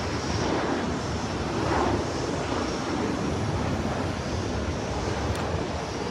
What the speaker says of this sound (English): let's see if we're watching the takeoffs of some of the planes